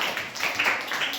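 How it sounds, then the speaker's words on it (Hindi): Schoolchildren in a classroom clap for a classmate, a brief burst of dense, scattered hand claps lasting about a second, close and lively, with no talking. "हर्षजीत के लिए ताली बजाओ।"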